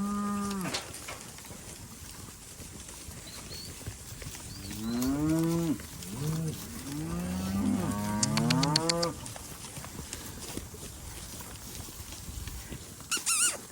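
Cattle on pasture moo repeatedly, several drawn-out calls clustered in the middle, fairly close, with quieter gaps of outdoor background between them.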